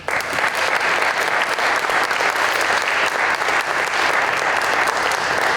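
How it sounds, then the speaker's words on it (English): Steady, dense applause from an audience at a city budget workshop, loud and sustained throughout with no break and no talk over it. "one round of applause, please"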